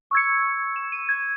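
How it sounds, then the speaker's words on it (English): A dry bell one-shot sample from a producer's one-shot kit, heard with no effects: a struck tone rings out, then a few light repeated hits follow over a little more than a second, close and clean. "That bell was key number 10 from AJ's one-shot kit."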